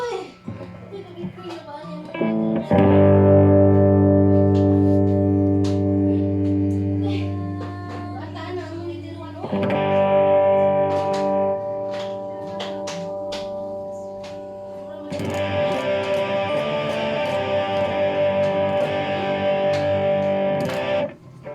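A Boss GT-6 multi-effects unit renders guitar through distortion in three held chords, each a thick, sustained, harmonically rich tone separated by short gaps, with a voice talking briefly at the start.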